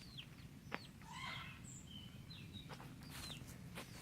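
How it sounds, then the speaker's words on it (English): A chicken clucks softly outdoors in short, scattered calls, with a few other chirps and light shuffling steps over steady low background rumble. "There's a chicken here and a whole load."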